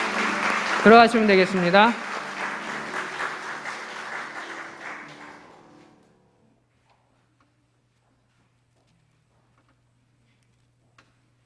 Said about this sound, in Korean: 격려의 박수 하겠습니다.